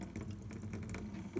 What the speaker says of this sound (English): and you have running water.